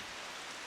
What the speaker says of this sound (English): Oh good, the fucking rain is here.